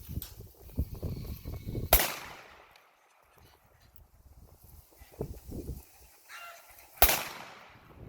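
Two sharp gunshots from a firearm with a firing pin striking a primer, the first near 2 seconds and the second near 7 seconds, each loud with a ringing decay, separated by quieter handling noise and low rumbles.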